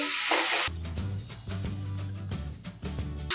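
Paneer bhurji frying on high flame, opening with a loud burst of sizzle that cuts off, followed by repeated scraping and stirring strokes in the pan over a low humming tone.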